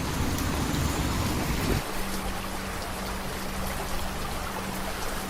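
Heavy rain pouring down on a city street as someone steps off a bus: a dense, steady wash of hiss that runs unbroken throughout, with a low hum fading out early on.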